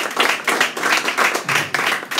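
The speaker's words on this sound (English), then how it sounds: "Give him a round of applause." Applause for a chairman at an awards reception: a steady, dense round of clapping from a crowd, sustained and fairly loud throughout with no voices over it.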